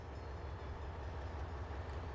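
A freight train in the video game Trainz Simulator 2 rumbles steadily on a German route, a continuous deep rolling drone with no talk.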